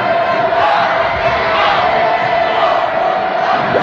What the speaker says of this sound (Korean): 각계층 군중들의 만세의 환호 소리는